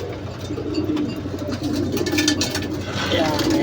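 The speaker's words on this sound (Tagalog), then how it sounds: "Ayan sila mga kalapatids" Domestic pigeons in a rooftop loft coo in a low, steady murmur throughout, with faint chirps and a person talking nearby.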